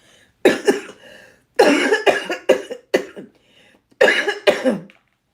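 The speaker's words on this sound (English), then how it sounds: "Y'all see my cough got better, right?" Several bursts of harsh, raspy coughing, close and loud, coming in short clusters separated by brief pauses.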